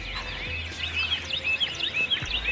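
Wild turkey in open country in turkey season, a rapid gobbling call that rises and falls over a low steady rumble, with smaller bird chirps mixed in.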